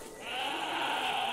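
A goat bleats in the hunting game The Hunter Classic, one drawn-out wavering cry heard close and clear for just over a second.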